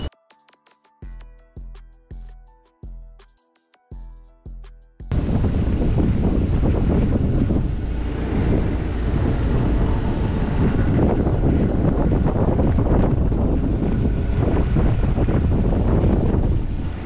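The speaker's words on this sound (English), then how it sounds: "I'm talking about this wind blowing so hard." Strong, freezing wind blows hard in a loud, steady roar that buffets the microphone, kicking in abruptly after a few seconds of short, plucked tonal notes.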